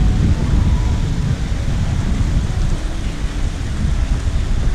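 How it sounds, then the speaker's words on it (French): Heavy rain falls in Kunming, China, with a low thunderous rumble beneath, a loud, continuous wash of noise that swells slightly, near and unbroken, with no one talking. "Les gars, franchement, j'aime pas la pluie."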